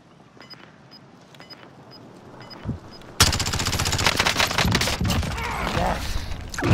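Video game gunfire: a quiet stretch with faint ticks, then a sudden loud, sustained burst of rapid automatic shots that continues to the end.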